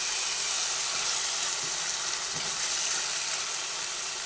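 Papaya chilli coated in plenty of tomato sauce sizzles in a pan as it is stirred, a steady close hiss with a few soft scraping thumps and no pauses.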